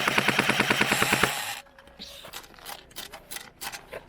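A rapid burst of full-auto gunfire in a video game, about a dozen evenly spaced shots, cuts off abruptly as ammo runs out and gives way to quieter scattered game noises.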